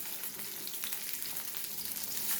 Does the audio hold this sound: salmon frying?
yes